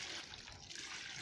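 Water pours steadily for about a second into a container holding live fish, a close, continuous splashing rush with no voices.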